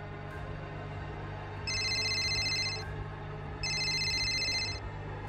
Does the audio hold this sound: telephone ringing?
yes